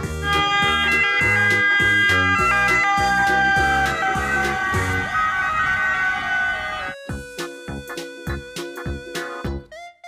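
A toy ambulance's loud electronic siren pulses in a repeating two-tone pattern with music, then shifts into a lighter chiming jingle before fading.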